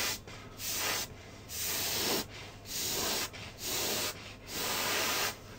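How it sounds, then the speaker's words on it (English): A paint sprayer hisses in repeated short bursts of about a second each, with an air compressor humming steadily underneath throughout. "Just as my compressor kicks in, we'll get on and try a little bit more spraying on this."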